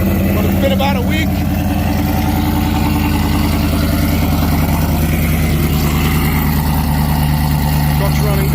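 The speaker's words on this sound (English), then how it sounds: "Truck's running good, sounds good" A Ram 1500 truck with a swapped 392 Hemi engine idles steadily and loudly up close, a constant deep rumble that holds for several seconds.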